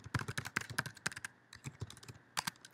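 Rapid clicking keystrokes on a computer keyboard while a password is entered at a school email sign-in, a close, steady run of taps with a brief lull partway through and no voices.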